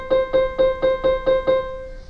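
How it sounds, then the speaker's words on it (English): A plucked string cut to half its length rings an octave higher, struck seven times in an even rhythm with crisp attacks and brief decays, heard up close and alone. "if I cut the string exactly in half and play a tone that sounds like this"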